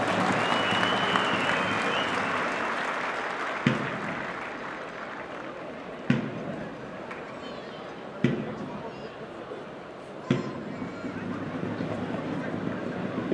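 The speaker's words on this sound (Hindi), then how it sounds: "तालियां बजाइए जोरदार इन जवानों के लिए" A crowd at an Indian event applauds loudly for soldiers in sustained, dense clapping, broken every couple of seconds by a sharp, heavy thump.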